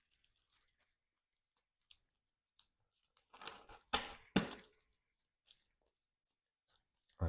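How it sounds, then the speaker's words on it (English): Crisp rustling and riffling of Marvel Champions cards being shuffled into an encounter deck at a tabletop game, with irregular soft taps building to a few louder bursts, close up and without talk. "let's actually shuffle the Expert 1 cards"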